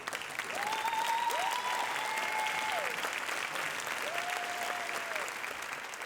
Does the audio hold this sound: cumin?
no